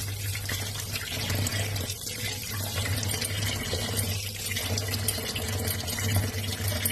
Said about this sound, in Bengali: মাংসটা ভালো করে ধুয়ে নিই।